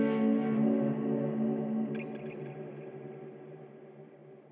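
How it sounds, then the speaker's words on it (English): Sustained electric guitar chord from an Epiphone Firebird drenched in heavy delay and reverb, a long ringing wash with repeating echoes that slowly fade out, alone with no voices. "It's a lot of delay and reverb."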